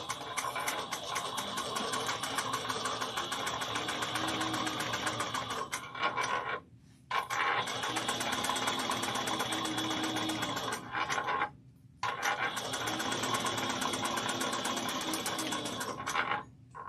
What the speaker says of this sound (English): We're going to sew this down 3/8 of an inch from the beginning and the end.